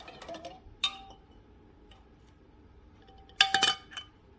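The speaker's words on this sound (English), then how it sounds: "So we're just going to put that lid on." A metal canning lid set onto a glass jar for pressure-canning chicken gives a sharp clink near the start and a louder cluster of metallic clinks and rattles near the end, with quiet handling noise between.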